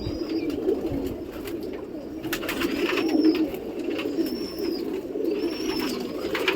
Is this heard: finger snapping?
no